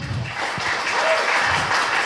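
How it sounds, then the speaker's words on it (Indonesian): Applause from an audience at a startup meetup in Indonesia as a guest is invited to the stage, a steady dense clapping that fills the short stretch at moderate loudness. "tepuk tangan dulu teman-teman"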